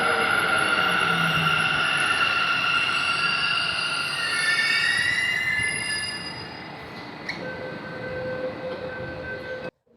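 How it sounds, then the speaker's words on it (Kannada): A Bengaluru Namma Metro Green Line train pulling into a station, loud metallic wheel squeal and rumble that fade as it slows, ending in a near stop. "ಸೊ ನಮ್ಮ ಮೆಟ್ರೋ ಬಂತು ನೋಡಿ, ಬೆಂಗಳೂರು ನಮ್ಮ ಮೆಟ್ರೋ."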